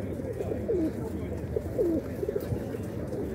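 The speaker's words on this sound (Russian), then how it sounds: "Это вот ставропольская птица." Pigeons cooing at a bird market in Stavropol, several soft descending coos near and in the background among market murmur, with someone talking nearby.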